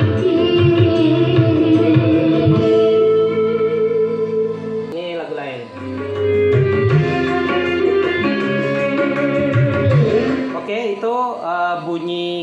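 Music played through a loudspeaker wired with a GT Lab crossover, a steady full-range track with bass and melodic tones that runs continuously and loud, with a brief dip near the middle.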